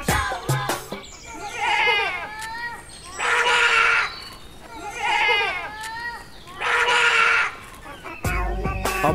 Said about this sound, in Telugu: ఈ మేకలు ఎంత ప్రశాంతంగా ఉన్నాయి.